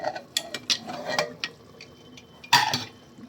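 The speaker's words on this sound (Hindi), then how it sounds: "अब इसे निकाल के भून लेते हैं।" Minced meat samosa filling being roasted in a pan with whole black pepper, cumin, cloves and black cardamom in barely any oil, heard as close, irregular spoon scrapes, clinks and sizzling taps against the metal pan.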